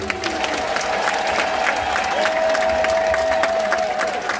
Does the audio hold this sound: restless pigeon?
no